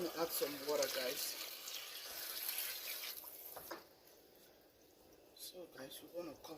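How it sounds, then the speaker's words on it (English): Water pours steadily into a cooking pot while preparing Nigerian okazi soup, a continuous splashing stream beneath a voice talking over it, with the flow easing and thinning toward the end. "going to add some water, guys."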